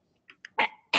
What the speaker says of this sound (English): Sorry, I've had a cough for a whole week,